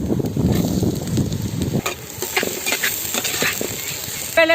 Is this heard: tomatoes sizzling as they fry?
yes